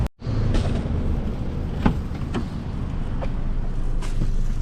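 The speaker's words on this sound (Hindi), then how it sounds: "गाड़ी स्टार्ट ही छोड़ दी थी हमने यार" A parked car left running with its engine idling, a steady low rumble holding close and continuous throughout, with a faint thump near the start.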